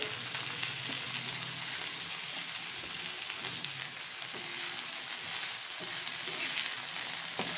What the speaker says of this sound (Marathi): आता कांदा आणि लसूण भाजून घेतला, त्यातच कोबू टाका